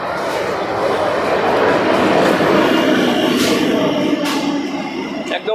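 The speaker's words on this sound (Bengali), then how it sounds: "আমাদের ট্রেন ঢুকে গেছে" A train pulling into Shyamnagar station on the line toward Sealdah, heard as a loud, steady rumble and roar of the arriving carriages that fills the clip, with a few brief higher squeals near the end.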